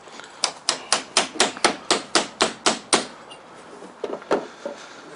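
Concealed deck fasteners are hammered into a deck board near a butt joint: about ten sharp, evenly spaced close blows, then a short pause and a few more lighter strikes.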